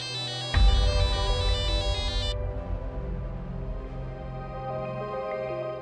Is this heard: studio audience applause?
no